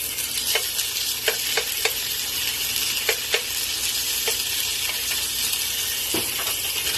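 Oil crackles and sizzles steadily in a pan while a ramen-style dish is stirred, with sharp pops bursting irregularly across the hiss, close and fairly loud, and no voices.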